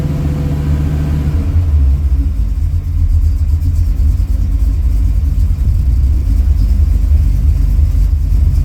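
Carbureted V8 on a Carb Cheater setup idling slightly low while still cold, with the choke partly open; a steady, loud, close-up rumble holds throughout with no talk.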